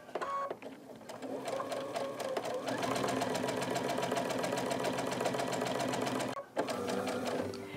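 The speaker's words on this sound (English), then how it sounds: "I'm going to very, very slowly stitch up to my pin without sewing through it" A sewing machine stitches slowly through quilt fabric toward a pin, its motor humming steadily with a rapid needle rhythm across almost the whole stretch, broken by one brief pause before it runs on again.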